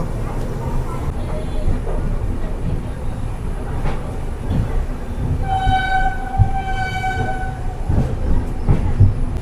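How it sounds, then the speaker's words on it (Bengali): A train departing Bhubaneswar station rumbles and rattles along steadily, with a drawn-out horn sounding midway over the continuous rolling noise. "এই স্টেশন থেকে ট্রেন ছেড়ে দিল এই মুহূর্তে"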